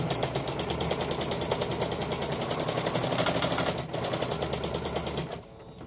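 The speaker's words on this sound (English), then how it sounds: "I'm sewing along the edge." A sewing machine runs a steady, fast rhythmic stitch along the edge of a blackout-lined curtain. It hums continuously and close up for about five seconds, then cuts off near the end.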